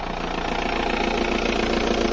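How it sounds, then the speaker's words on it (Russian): An Audi engine with a Bosch EDC/MSA 15.5 control unit runs with its immobilizer disabled, holding a steady, even idle hum with a faint rhythmic pulse, close and continuous. "по факту мотор заводится без иммобилайзера"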